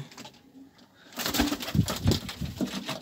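Pigeons coo softly and repeatedly up close, low throaty calls rolling one after another against quiet background noise.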